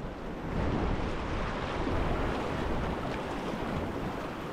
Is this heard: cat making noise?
no